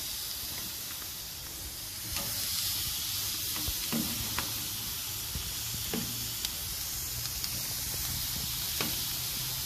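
Chicken wings coated in olive oil and a dry rub sizzle on a Char-Broil Signature two-burner gas grill, a steady loud hiss and crackle with occasional pops, heard on its own with no talking.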